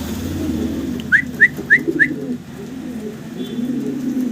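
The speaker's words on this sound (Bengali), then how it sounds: "দেখতে পারতেছেন অসাধারণ সুন্দর অ্যাক্টিভ কবুতরগুলো" Fancy pigeons coo low and steadily, and four quick, evenly spaced whistling chirps rise above the cooing partway through. The birds are close, with no talk.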